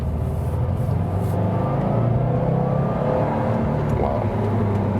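A Subaru WRX STi engine screams at high RPM, a steady loud drone with a faint whine rising over it and some muffled talk underneath.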